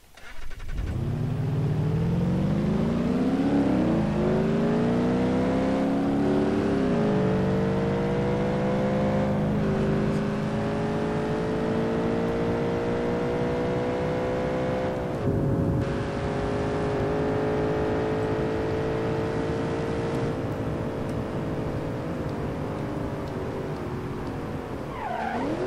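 A car engine in BeamNG Drive revs hard and accelerates, pitch climbing steadily through several gear shifts with brief dips, loud and close with tire squeal mixed in, no talking.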